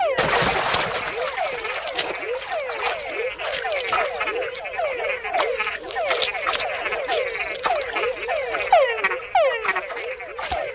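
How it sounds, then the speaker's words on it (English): Many small frogs call in a Panamanian rainforest at night, a rapid overlapping chorus of loud chirping croaks repeated in quick rhythm with no talking. "with other bigger frogs nearby, a call can be a fatal attraction"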